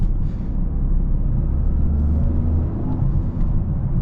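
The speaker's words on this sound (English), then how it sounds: "here we are driving this GR Corolla" A Toyota GR Corolla on the road, heard from inside as a constant loud low rumble of engine and tyre noise, steady throughout with no talking.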